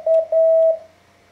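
A slow Morse code letter K, sent at five words per minute as a clear, steady, single-pitched beep tone. The tone cuts into a few separate pulses and then stops, with no voice.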